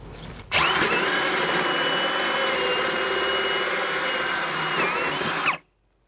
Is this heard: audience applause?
no